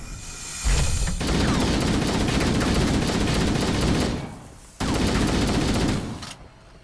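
Sustained assault rifle fire in Halo: Combat Evolved, a loud, close, dense rattle of rapid shots with a short break near the end before another burst.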